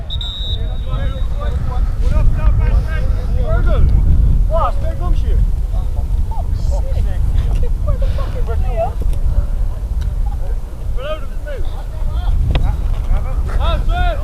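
Wind gusts across the pitch at an under-16 football final, making a heavy, rumbling buffet on the microphone throughout. A commentator keeps talking over the blustery roar.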